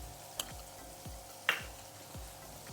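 Ginger garlic paste and green chili paste frying in a pan, a soft steady sizzle broken by a few sharp clinks and scrapes of stirring, close and fairly quiet, with no talking.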